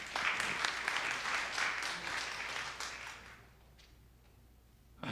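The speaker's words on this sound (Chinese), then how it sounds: "我们拍手欢迎他。" A church congregation at an anniversary revival service applauds to welcome a visiting pastor. The clapping is full and sustained for over three seconds, then tapers into quiet room noise.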